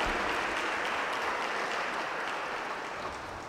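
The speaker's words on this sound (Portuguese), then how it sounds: "Uma salva de palmas para o Gabriel" Churchgoers at a Catholic Mass give a round of applause for a baptism, a broad continuous wash of clapping from many people that fades slightly toward the end.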